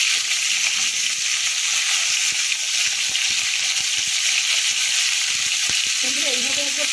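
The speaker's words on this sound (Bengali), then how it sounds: "আমরা এখন কপিগুলো হালকা করে ভেজে তেলে নেবো" Cauliflower pieces fry in hot oil in a home kitchen, giving a loud, steady hiss and sizzle throughout, with light stirring ticks and a faint voice near the end.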